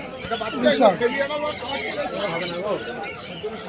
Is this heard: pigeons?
yes